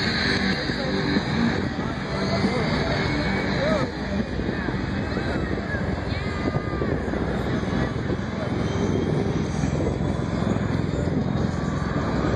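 A Boeing V-22 Osprey tiltrotor aircraft roars at the MCAS Miramar Airshow 2012, a loud continuous rotor and engine drone with wind buffeting the microphone, and an announcer's voice runs underneath.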